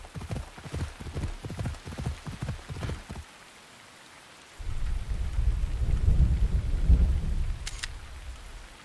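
In the video game Assassin's Creed Odyssey, hard rhythmic clattering gives way to a short lull, then a steady low rumble of heavy rain and thunder rolls in, loud and continuous.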